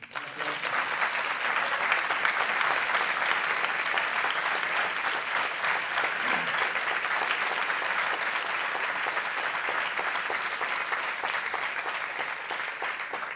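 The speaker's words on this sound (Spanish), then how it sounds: "quiero pedir primero que nada un aplauso para él." At a public interview with Cuban writer Leonardo Padura, an audience gives long, even applause for him, a continuous dense clatter of many hands heard from a moderate distance.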